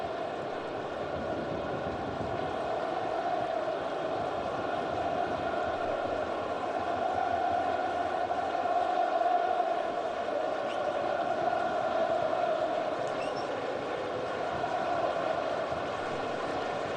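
A football stadium crowd at a Wolfsburg v Werder Bremen match waits for the final whistle, a steady, distant roar that drones on without pause.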